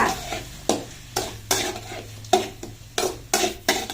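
A spoon stirs potato masala in a pan over medium heat, making steady scraping strokes about every half second, close and clear with no voices.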